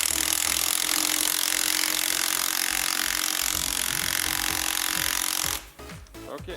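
A spring compressor squeezing the rear strut spring of a Dodge Journey or Fiat Freemont, driven by a loud, steady, grinding power-tool drone that runs nearly unbroken before cutting off into a few clanks.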